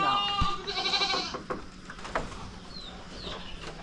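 Goats being bought for a small farm bleat in a wavering, drawn-out call near the start, followed by a few shorter, fainter bleats and bird chirps over a steady outdoor background.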